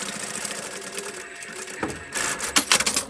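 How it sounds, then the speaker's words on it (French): A domestic sewing machine runs a short holding seam on quilted fabric for a zipped pencil pouch, with a steady whirring motor and rapid needle chatter, close and loud, picking up in bursts toward the end. "Et vous allez mettre une petite couture de maintien"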